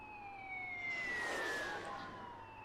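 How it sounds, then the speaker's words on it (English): A wailing siren sweeps steadily through a rising and falling tone, moderately distant, with a faint rush of passing traffic underneath. "Why does it sound like an ambulance?"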